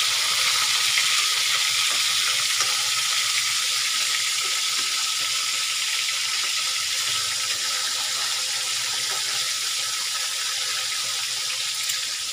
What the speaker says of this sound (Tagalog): Habang nagpiprito ng isda